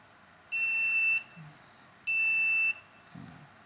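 A multimeter set to continuity mode emits two bright, steady electronic beeps about a second and a half apart, each lasting under a second, faint clicks between them.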